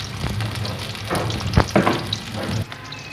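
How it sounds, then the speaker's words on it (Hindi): Pakoras deep-frying in oil over a medium flame for karhi pakora, a steady close sizzle with a few louder spattering bursts and faint stirring, with no voices. "मीडियम फ्लेम पे हम पकौड़े फ्राई करते हैं।"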